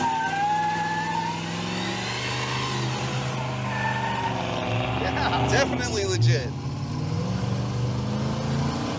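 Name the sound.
Ford Ranchero V8 engine accelerating, carburetor secondaries opening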